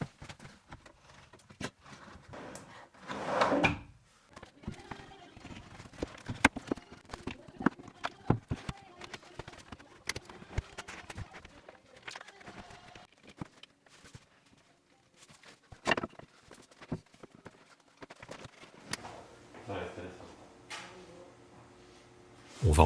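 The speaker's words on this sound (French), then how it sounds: "On effectue ici un test de mise en place des 4 fonds de tiroir afin d'être sûr que tous coulissent" Four wooden drawer bottoms are slid into place in a handmade storage bed, giving irregular knocks, scrapes and clatters of wood on wood, with a few louder bumps and quiet gaps between.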